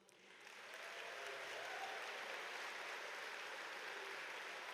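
Audience applause fills a university diploma ceremony hall, a dense, sustained wash of clapping that swells in the first second and holds steady, moderately distant.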